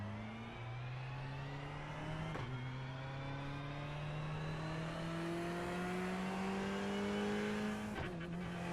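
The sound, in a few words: Ferrari 488 Evo race car engine in iRacing video game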